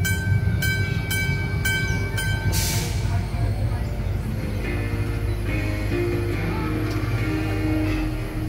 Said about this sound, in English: Please ensure you remain seated until the train comes to a complete stop.